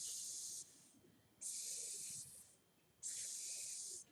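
Three long, breathy hisses, each about a second and separated by short pauses, made by a voice imitating a snake; nobody talks.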